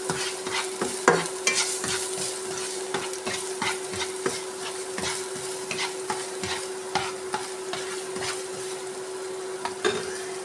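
Green chillies and carrots sauté in a pan for spicy noodles: a gentle sizzle sits under repeated, rhythmic spatula scrapes and taps against the pan, close and fairly loud.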